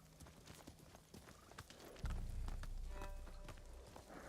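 Horse hooves clip-clopping in the video game Ghost of Tsushima, a series of distinct hoofbeats that grow into a denser, louder rumble partway through as the horse moves faster.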